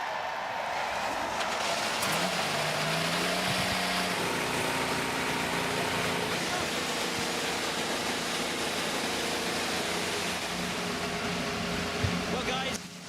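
IndyCar race car engines run together at the start of an IndyCar Series race, making a dense, continuous roar with broadband noise, partly under commentary.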